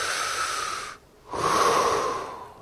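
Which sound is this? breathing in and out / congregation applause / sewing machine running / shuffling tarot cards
breathing in and out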